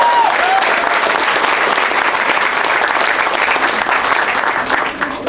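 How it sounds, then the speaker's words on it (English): Steady, dense applause from an audience fills the whole stretch at a grand opening ceremony, loud and sustained with no break and no voice over it. "please clap for him."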